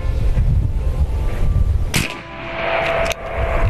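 A .50 caliber AEA Challenger bullpup air rifle fires outdoors with one sharp, loud crack, over a steady background rush, and a fainter second snap follows about a second later.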